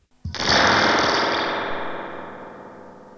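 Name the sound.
spring reverb crash from bashing Supro tube amp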